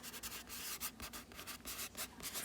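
Handwritten numbers scratched out on paper, a steady run of short rubbing pen or pencil strokes at close range with no voice over them.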